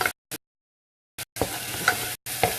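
Onions and garlic cooking in a pan for a vegetarian enchilada lasagna, crackling sizzle with utensil clacks, heard in short choppy bursts separated by dead silence, then a longer sizzling stretch.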